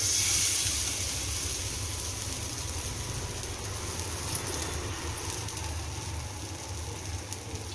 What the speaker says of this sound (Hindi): तेल हमारा गर्म हो चुका है। अब इसमें हम ये कटलेट डाल देंगे